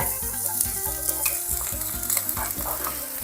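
Loud, steady sizzling of chopped garlic frying in oil in a hot wok, with rhythmic scraping strokes of a spatula stirring every half second or so.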